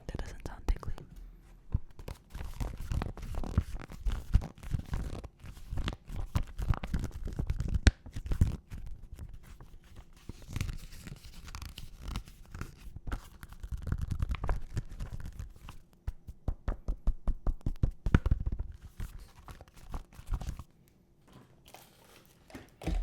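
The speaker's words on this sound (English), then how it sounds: "I forgot to do the book massaging." Close, soft rubbing and scratching of hands on a textured journal cover in irregular bursts, with occasional whispered speech and quiet pauses.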